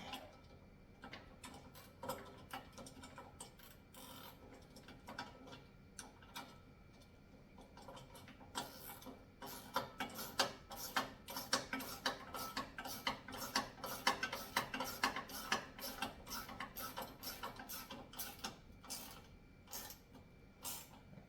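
Bolts being tightened on a heavy-duty wall-mounted pull-up bar: quiet at first, then a long run of rapid metallic ratchet clicks, close and steady, growing louder midway.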